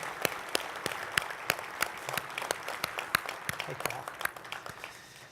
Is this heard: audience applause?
yes